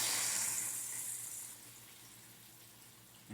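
Water poured into a hot skillet over a large batch of steak, a loud rushing splash and sizzle at first that fades to a softer hiss.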